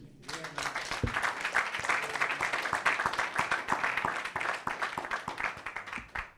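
A crowd at a highlife music centenary launch in Ghana claps continuously, with dense, lively applause building quickly and holding steady for several seconds before tapering.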